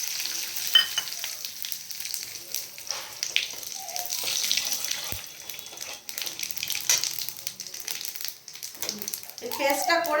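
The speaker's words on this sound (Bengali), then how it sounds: "ফোড়নে দিচ্ছি যে শুকনো লঙ্কা, এলাচ, তেজপাতা" Dried chilli, cardamom and bay leaf tempering in hot oil for a fish curry, a faint, uneven sizzle and crackle close by with occasional stirring clinks, over quiet kitchen noise that grows busier toward the end.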